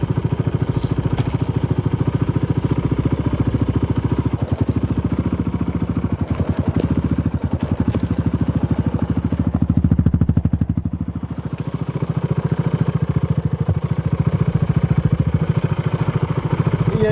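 Yamaha Raptor quad ATV running while driving off, its engine a loud, steady, pulsing mid-range drone that rises and dips slightly, close to the microphone throughout.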